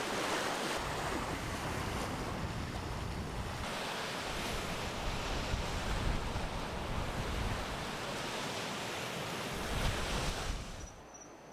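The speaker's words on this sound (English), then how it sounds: "It's a really nice beach." Waves wash onto a beach on an overcast day, a continuous roar of surf with wind buffeting the microphone, steady and fairly loud for the whole stretch before it eases at the end.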